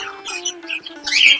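A budgerigar squawks in harsh, bright bursts close by, with a steady tonal note running underneath through the short stretch, ending in a louder rasping call.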